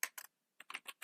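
Keys clatter on a computer keyboard as JavaScript code is typed, a quick close burst of about two keystrokes, a short pause, then a run of five or six rapid taps, with no talking.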